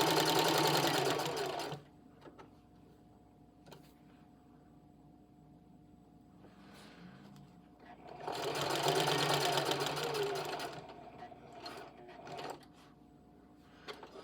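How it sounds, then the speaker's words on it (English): A Singer HD 4411 sewing machine stitches heavy fabric in two bursts of rapid, even mechanical chatter, each lasting a couple of seconds, separated by a quiet pause with faint clicks and handling noises. "And you'll notice that this machine can operate slowly."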